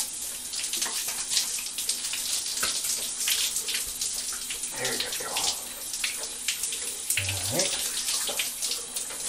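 Tap water runs steadily into a sink while something is washed off under the stream, a close, continuous splashing rush with small gurgles and shifts in flow.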